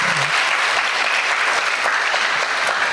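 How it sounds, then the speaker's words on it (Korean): A church congregation at a Sunday evening worship service claps together in steady, dense applause that fills the room without a break, with no talk over it. "우리 박수 한번 해주시기 바랍니다"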